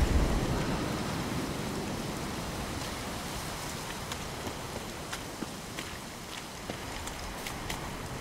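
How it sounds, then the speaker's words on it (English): Steady in-game rain from The Witcher 3 hisses and patters over a low rumble, with scattered sharp drips and light taps throughout. "rain."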